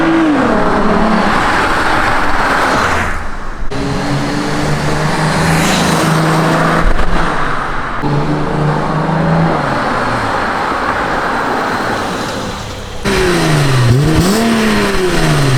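A Volkswagen Golf 3 with a VR6 engine heard from outside, engine droning steadily with rising and falling revs as it idles and drives off, loud and close throughout with no talk.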